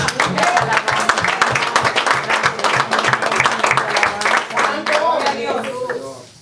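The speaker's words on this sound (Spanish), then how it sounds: "Denle un aplauso a su Dios." A church congregation claps together in a loud, rhythmic burst of hand claps mixed with cheering voices, close and energetic before fading out at the end.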